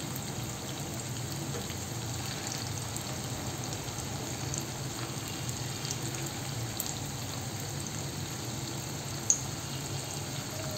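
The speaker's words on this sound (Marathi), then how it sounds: "आता कटलेट एक बाजूने छान असे खरपूस भाजून झालेले आहेत" Sabudana (tapioca pearl) cutlets shallow frying in a pan over low heat, a steady close crackle and sizzle of oil running evenly throughout, with one small pop near the end.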